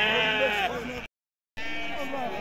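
Sheep bleat repeatedly and loudly at the Thursday livestock market in Timahdite, Morocco, in two bursts split by a short silence, with people talking nearby.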